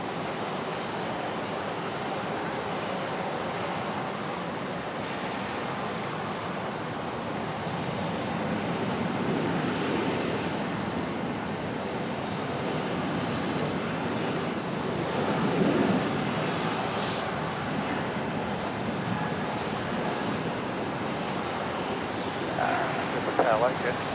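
A Rex airliner lands at Brisbane Airport, its engine roar a steady broad rumble throughout, fairly loud with wind noise.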